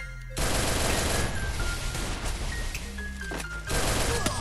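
Rapid automatic gunfire rattles in a shooter video game, a loud, dense and unbroken burst of shots that lasts several seconds with a brief dip partway through.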